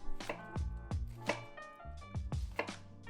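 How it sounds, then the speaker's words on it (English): A knife dicing onions on a cutting board, sharp rhythmic chops landing about every half second, close and clear with no talking. "I like to dice my onions like this."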